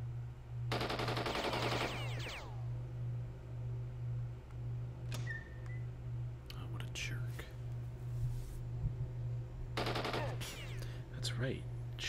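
Bursts of automatic gunfire from the tactical game Jagged Alliance 2, two dense volleys a few seconds apart with scattered sharper shots between, over a steady low electrical hum.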